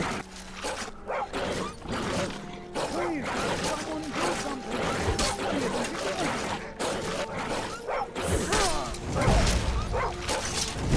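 Dog in the Skyrim video game barking and yelping amid combat clatter, a string of short, fairly loud barks spread across the scene along with game sounds.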